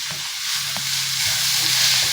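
Small sambar onions sizzle and fry in a pan while being stirred, a steady close crackling hiss with a few soft scrapes and no voices.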